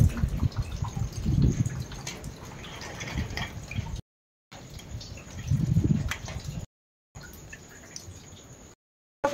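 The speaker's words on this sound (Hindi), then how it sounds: "सुबह सुबह हल्का हल्का बारिश हो रहा है" Water drips and patters softly nearby, a light wet trickle with low splashy thumps, broken by brief silent gaps.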